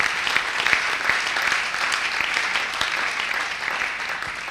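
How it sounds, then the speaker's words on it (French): An audience claps steadily at a church gathering, a dense sustained applause that carries at an even loudness throughout, with no voices standing out. "On peut l'acclamer."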